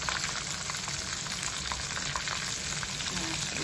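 Battered shrimp frying in hot oil, a constant close crackling sizzle that holds steady throughout, fairly quiet, with no voices.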